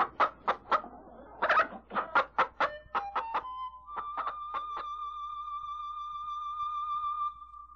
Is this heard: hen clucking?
yes